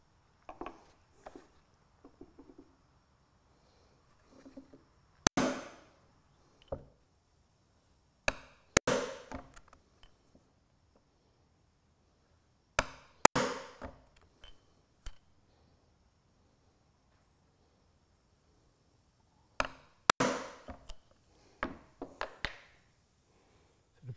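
A hand punch is struck through leather oar leathers, giving sharp isolated knocks in irregular clusters with quiet gaps between them, close and fairly crisp.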